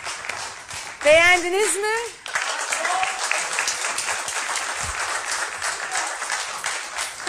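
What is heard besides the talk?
audience applause for singer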